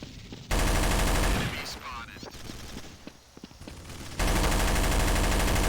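Dense automatic gunfire from Counter-Strike: Source fills the opening and closing stretches, loud and continuous, with a quieter gap of scattered shots and footsteps between them.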